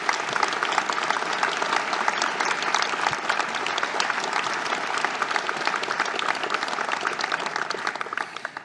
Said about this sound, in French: oui, on peut les applaudir.